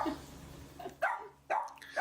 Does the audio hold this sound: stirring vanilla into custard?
no